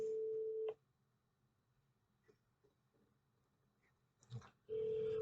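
A telephone ringback tone, a steady electronic beep heard while a call waits to be answered, cutting off for a quiet gap with faint clicks before resuming, loud and close.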